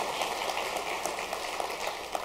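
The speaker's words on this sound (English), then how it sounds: "Let's give them a round of applause" An audience gives a round of applause for the staff at a gathering, a dense, even patter of many hands clapping steadily throughout, with no voices heard.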